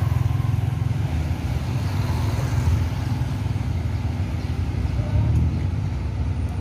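An intercity bus departs from West Sumatra bound for Jakarta. Its engine gives a loud, steady low rumble close by throughout.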